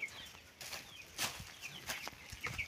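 Hens on a small poultry farm, one with scattered, ruffled feathers, cluck softly and intermittently in short, faint calls, with a few brief rustles or wing flaps, fairly distant and quiet.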